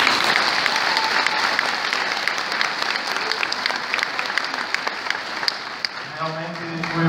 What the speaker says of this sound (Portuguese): Você pode dar mais uma salva de palmas para o grupo de louvor?